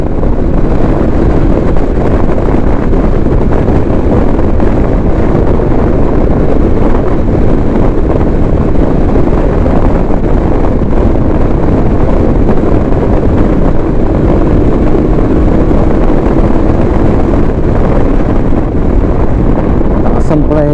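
Strong wind buffets the microphone while riding a Bristol Venturi 500 motorcycle, a loud, constant low roar of rushing air filling the whole stretch with no breaks.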